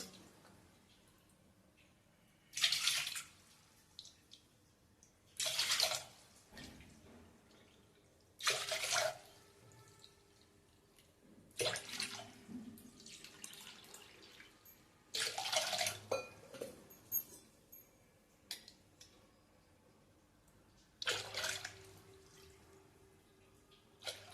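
Water is poured into a cooking pot for boiling, about seven separate splashing pours of measured cupfuls with quiet pauses between, close by and fairly loud.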